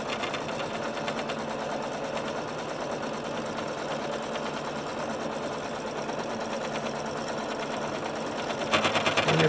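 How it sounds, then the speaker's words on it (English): A home sewing machine stitches pleats on a fabric face mask, running in a steady, loud, rapid hammering rhythm throughout, with a sharper burst of stitching near the end. "It makes my sewing machine sound like a jackhammer."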